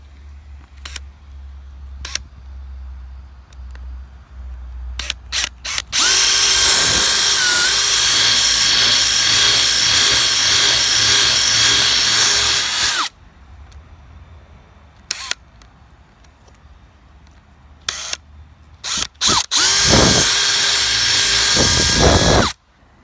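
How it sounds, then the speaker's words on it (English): Power drill boring out the puncture hole in a flat tire, two loud sustained whining bursts, the first running about seven seconds and a shorter one near the end, separated by quieter clicks and handling sounds. "Now we're going to take our drill. We're going to drill that hole out."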